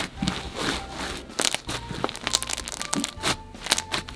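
Crunchy foam slime squished close by in irregular bursts of crackling, popping crunches, some sharp and loud, others softer.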